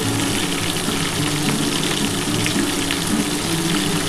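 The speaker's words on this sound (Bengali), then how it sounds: "আমি এই 4 পিস ভেজে আগে তুলে নিয়েছি, এবার ওটা ভেজে নিই" Pieces of Bhola fish frying in hot oil in a pan give off a loud, continuous, dense sizzle with no pauses, close to the pan.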